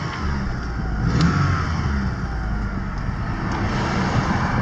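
Mitsubishi Galant VR4 engine revving with a fresh fuel pump installed, a steady mid-level engine roar that swells slightly around one second in, heard alone without talk.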